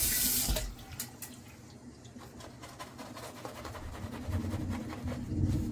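Water runs steadily from a tap into a sink, a continuous splashing hiss with small clinks and rustles nearby.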